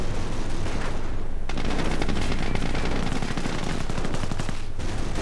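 Dense rattling gunfire and heavy impacts from PIAT anti-tank rounds in a WWII strategy video game, continuous loud machine-gun bursts and crackling fusillade throughout.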